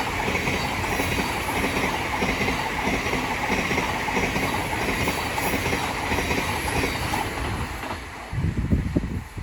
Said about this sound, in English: The next train to pass by is going to be a Thameslink Class 700 from Peterborough to Crawley.